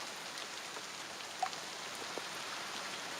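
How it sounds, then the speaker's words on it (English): Steady rain sound effect playing during a tabletop fantasy game session, a continuous even hiss of rainfall with faint scattered drops and no talking. "It's nice that I could just have a rain sound effect when it's raining."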